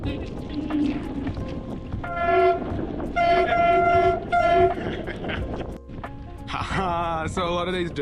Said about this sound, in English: Shit, that's a train.